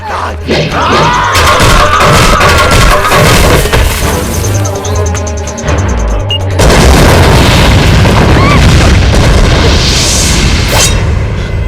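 A bomb blast in an action film sounds as a loud, sustained booming roar with crashing debris, a second heavy burst surging midway, and crowd-like shouting beneath it.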